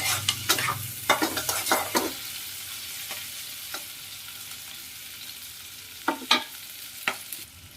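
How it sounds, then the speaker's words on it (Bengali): Chopped green chillies frying with onion and garlic in a pan, a spoon stirring with clustered clattering scrapes early and a couple more later over a steady quiet sizzle. "এবার কেটে রাখা কাঁচা লঙ্কাটাকে অ্যাড করে দিচ্ছি। এটাকে দিয়েও একটু সময় ভেজে নিতে হবে।"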